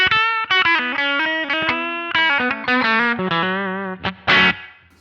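Electric guitar played with single-coil pickups through a MayFly Creamsicle Overdrive pedal on its fat setting, a gritty, sustained melodic line of picked notes and bends, loud and close with no talking.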